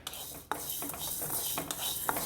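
Horse gram (muthira) roasts in a pan while a spoon stirs it, producing quiet, repeated scraping and rustling strokes with a few sharper clinks against the metal.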